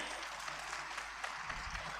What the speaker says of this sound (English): Can we have a round of applause for that?